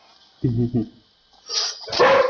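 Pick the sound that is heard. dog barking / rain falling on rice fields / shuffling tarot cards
dog barking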